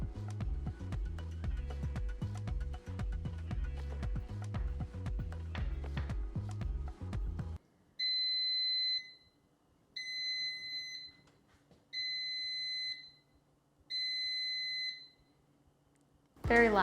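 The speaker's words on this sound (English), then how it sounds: "Very loud, ear-piercing beep to let me know" An air fryer signals that cooking is done with a series of four loud, piercing beeps spaced about two seconds apart, coming after a stretch of kitchen background noise.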